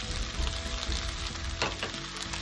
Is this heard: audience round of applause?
no